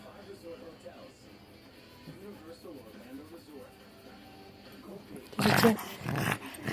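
Pug dog makes low, rumbling grunts and growls close by, with a short louder burst of breathy noise near the end, all faint and under a quiet room.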